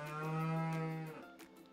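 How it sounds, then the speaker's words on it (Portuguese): A single deep cow moo, loud and close, holds a steady low tone for about a second before trailing off, with no other sounds. "Muito bem, essa é a vaca."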